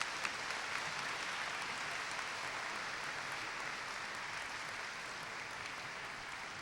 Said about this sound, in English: Please give him a large round of applause.